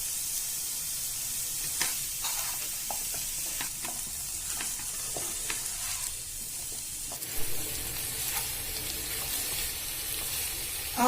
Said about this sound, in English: after frying it for a minute